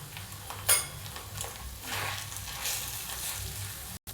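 Spices sauté in a pan for egg bhurji with a soft, steady sizzle. A spatula stirs and scrapes close by, and one sharper clink sounds early on.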